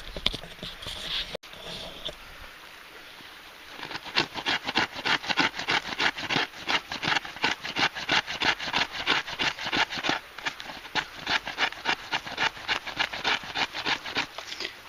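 Wooden tips of a stick bow being shaped and thinned, a steady run of rhythmic rasping strokes, close and fairly loud, starting after a quieter opening with a brief rubbing sound.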